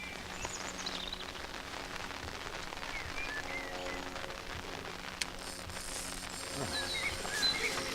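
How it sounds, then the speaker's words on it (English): Rain beginning to fall outdoors, a steady broadband patter on surfaces that holds throughout and thickens slightly toward the end, with faint background sounds. "Right on cue as the rain comes."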